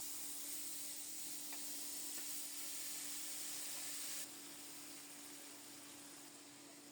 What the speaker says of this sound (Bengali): এই তেলে সামান্য একটু কালো জিরা ফোড়নে দিলাম।